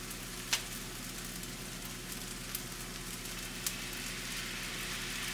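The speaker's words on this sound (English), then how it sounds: "fry it for like 1 to 2 minutes with the butter and garlic" Noodles fry in a pan with butter and garlic, giving a steady, soft sizzle with a low hum beneath and a few sharp clicks of utensils scattered throughout.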